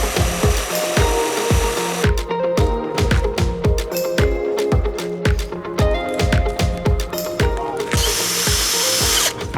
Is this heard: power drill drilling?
yes